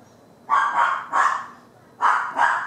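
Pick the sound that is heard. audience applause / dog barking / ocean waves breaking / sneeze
dog barking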